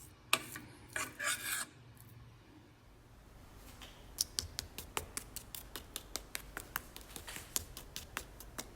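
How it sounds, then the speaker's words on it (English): Spoon scraping jellied fat off the top of a woodfired, sous vide porchetta, close and fairly quiet: a few longer rasping strokes, then a quick run of short repeated scrapes, no talk. "You can see on the top there now it's there's nothing left if I scrape it, because it's gone to a jelly."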